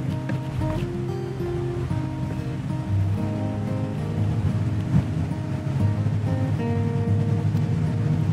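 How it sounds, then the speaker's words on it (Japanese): A waterfall rushes steadily nearby, a loud unbroken roar of falling water with a low tonal hum underneath. "わー、滝がすごい"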